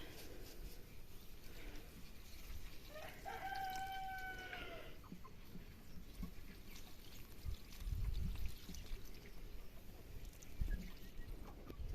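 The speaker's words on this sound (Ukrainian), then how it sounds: "Так, ще цепеньки бігають." Chickens cluck near a wet garden plot as a rooster crows once in the middle distance, with faint outdoor ambience and no talk.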